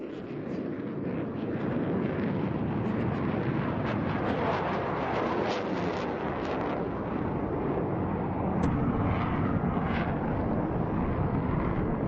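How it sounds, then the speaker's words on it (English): A JF-17 Block 3 fighter jet flies at an air show, a loud, steady broadband jet roar that fills the scene throughout, with wind buffeting on the microphone. "The aircraft is now performing an adjustment turn, and after that it will achieve a high G turn maneuver."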